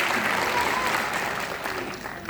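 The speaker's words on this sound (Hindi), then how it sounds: "तो आपके लिए एक तालियां" An audience at a Modicare sales talk claps steadily in a dense, continuous wash of applause that fades slightly toward the end, with no clear speech on top.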